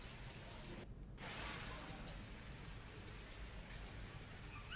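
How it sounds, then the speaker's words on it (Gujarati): Heavy afternoon downpour in Dabhoi, Vadodara, a dense, continuous hiss of rain at steady level with a low rumbling undertone, heard alone without talk. "બપોરે ધોધમાર વરસાદ શરૂ થયો છે"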